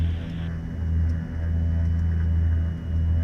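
A Beechcraft Baron G58 aircraft engine held at 1700 RPM during a run-up, a steady, loud, low droning hum with a deep throb that keeps an even level throughout, with no talk.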